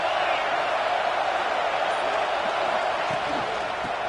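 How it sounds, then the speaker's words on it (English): Steady roar of a stadium crowd at a college football video game, Syracuse visiting Oklahoma, rising during a timeout; the dense broadband crowd noise fills the whole stretch continuously at a constant level. "This crowd rising up"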